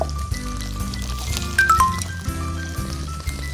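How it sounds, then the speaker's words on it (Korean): Garlic frying in oil in a pan, a steady close sizzle and crackle with brief bubbling pops, no talk over it. "이렇게 마늘 볶아지는 거 보이시나요?"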